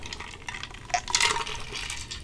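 Water poured over ice into a glass, a bright splashing and trickling with clinking textures, close and continuous for about two seconds with no talk.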